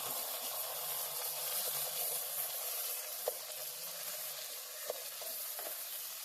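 Chicken and tomato sizzle steadily in a hot pan while being stirred, a continuous bright frying hiss with a few soft scraping knocks from the spoon, close and alone without speech.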